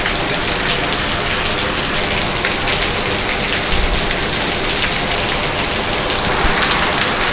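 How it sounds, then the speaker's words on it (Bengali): Continuous heavy rain after days of downpour, a loud, unbroken roar of drops pounding surfaces close by, with no voices. "আমাদের এখানে কিরকম ভাবে বৃষ্টি পড়ছে?"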